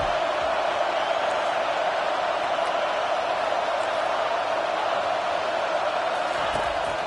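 A stadium crowd in the NCAA 25 college football video game keeps up a steady, dense roar throughout, with no break in the wall of noise.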